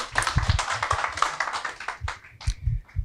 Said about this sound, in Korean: 큰 박수로 맞이해 보도록 하겠습니다.